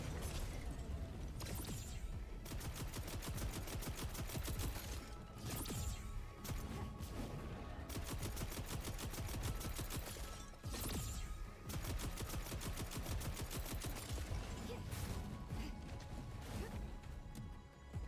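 A powerful gun in the video game Wayfinder fires rapid, continuous rattling shots with crashing impacts, running almost unbroken at fairly even loudness, with a few brief pauses between bursts.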